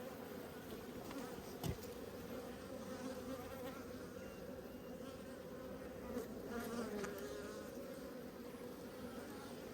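A dense, even drone of honeybees fills a late-winter hive inspection, close and continuous for the whole stretch, with one brief knock early on and no voices.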